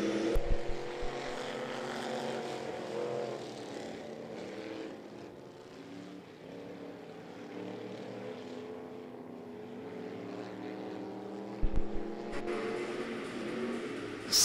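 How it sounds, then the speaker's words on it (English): Race cars in a Thunder-class heat race at I-75 Raceway roar out of turn four at the green flag, heard as a fairly faint, distant engine drone that swells and fades without talk. "Cody Satterfield in the 1, bringing the field out of turn 4 to Green Flag Racing."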